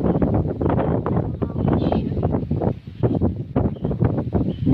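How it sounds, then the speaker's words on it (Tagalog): Strong wind with rain in a garden buffets the microphone in heavy, uneven gusts, roaring and rumbling close up with brief lulls between blasts. "Mahangin, maulan, pero kailangang ituloy,"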